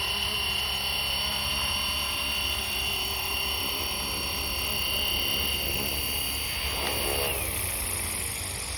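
Flywing FW450L RC helicopter easing down to land, its steady whining rotor and motor drone loud and close throughout, with a pitch sweep as it settles near the end.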